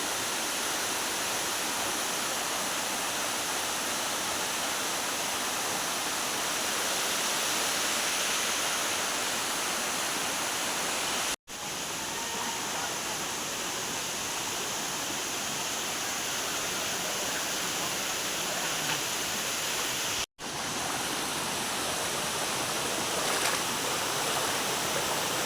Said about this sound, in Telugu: ఫ్రెండ్స్ అదే జలపాతం దగ్గరికి ఎంటర్ అయ్యాము.